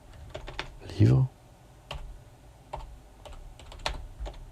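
Someone types on an unfamiliar computer keyboard, a string of light, irregular key clicks close by, with a brief vocal sound partway through.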